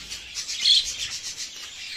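High, thin chirping from budgerigar chicks keeps up steadily throughout, a busy twittering chatter that sounds close by with no voices.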